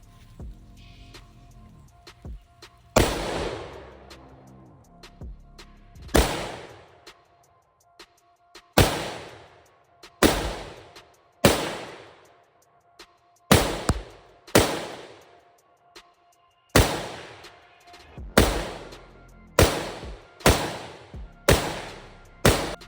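Gunshots from a handgun fired at an outdoor shooting range with unzeroed sights, a string of about thirteen loud, sharp cracks spaced irregularly, each followed by a short echoing decay, close up, with no talk.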